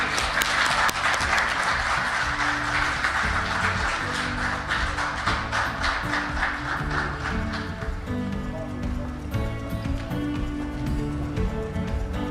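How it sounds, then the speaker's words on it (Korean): An audience at the 2021 International Patent Court Conference gives loud, continuous applause to welcome a speaker to the stage, many hands clapping steadily over tonal background music for about twelve seconds. "국가지식재산위원회 정상조 민간위원장님을 큰 박수로 맞이해 주시기 바랍니다."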